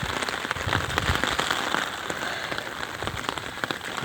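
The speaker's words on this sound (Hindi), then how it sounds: "ये देखें जी, बारिश मुसलसल पड़ रही है," Heavy, continuous rain pours down in a Punjab village in Pakistan, a dense steady hiss with close drops pattering on flooded lanes and surfaces, with no voices.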